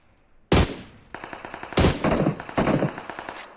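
Gunfire in the mobile game PUBG Mobile: a loud opening shot followed by rapid automatic bursts, sharp and close, with short pauses between volleys.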